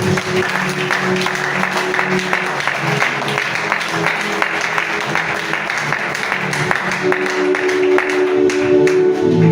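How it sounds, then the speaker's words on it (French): A church congregation applauds loudly and continuously, dense clapping filling the room without a break for the whole stretch. "acclamons très fort"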